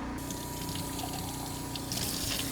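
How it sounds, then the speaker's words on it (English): Steady running water from a sink tap pours over a freshly butchered Cornish Cross meat chicken carcass being rinsed, a continuous close gush with a slight splashing shift near the end. "So I'm gonna rinse it off in the sink"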